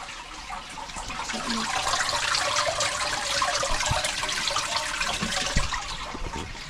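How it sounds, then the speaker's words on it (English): A pond drum filter switched on, sending a steady broadband rush of flowing water with a few small knocks and splashes, moderately loud and continuous, with no voices. "So if you want to turn the drum on under there, not the pump just yet, just the drum."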